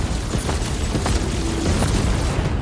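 Spaceship weapons open fire in a space-combat video game battle: a dense, loud, continuous roar of booming blasts and bursts with no pauses.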